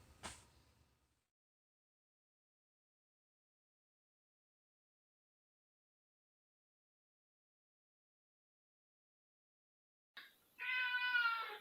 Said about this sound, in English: My cat crashed the video.